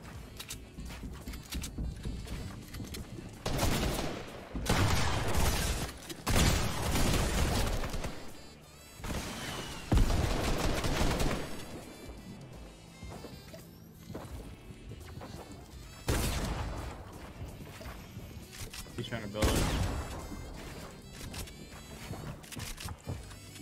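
Gunfire in the Fortnite video game, heard as loud bursts of shots and impacts that recur every few seconds over a continuous busy game soundscape.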